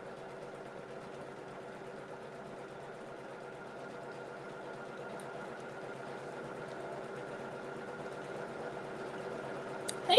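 An embroidery machine stitches a design onto a shirt with a steady, fast mechanical whir that continues evenly throughout, quiet and unbroken, ending with a brief click.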